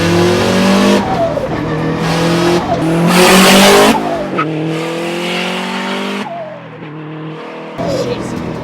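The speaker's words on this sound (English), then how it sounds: "It's all-wheel drive and it's spinning the tires." A 1996 Subaru STI Type RA with all-wheel drive launches hard on cold pavement, its loud engine revving up through gear changes while the tires squeal and spin, heard close with a voice speaking over it.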